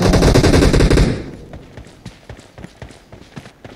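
Heavy video-game gunfire in a team deathmatch: about a second of loud, dense automatic bursts, then scattered fainter shots and footsteps trailing off.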